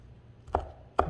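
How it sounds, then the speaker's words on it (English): Two sharp knife chops on a cutting board, about half a second apart, as cilantro is cut into small pieces, close and crisp over faint room noise. "I'm gonna chop this up really small pieces"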